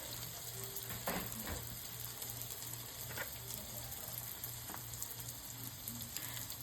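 A seasoned pork chop frying in a pan, a soft, continuous close sizzle with scattered pops and a faint rhythmic hum underneath, no talking.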